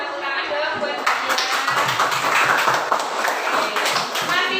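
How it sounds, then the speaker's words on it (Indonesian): A classroom of primary pupils claps together for a classmate, a dense steady patter of many hands lasting several seconds, with voices mixed in. "kasih tepuk tangan dong buat dia."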